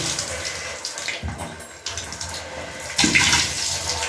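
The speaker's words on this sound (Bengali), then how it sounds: "দেখো আমি এঁচড়ের কষগুলোকে কি করে এই কলেতে নিয়ে এসে ছাড়িয়ে নিচ্ছি সমস্ত কষগুলো কিন্তু ধুয়ে চলে যাচ্ছে" Tap water pours from a faucet over hands as jackfruit sap is washed off, a loud, close, steady rush that changes slightly as the hands move under the stream.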